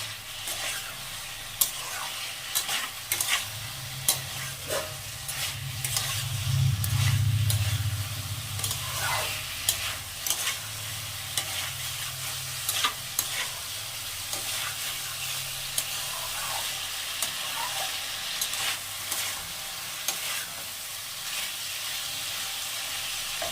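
Broccoli fries and sizzles in a pan while a utensil stirs it, with repeated sharp scrapes and clinks over a continuous hiss and a brief louder surge of frying near the middle.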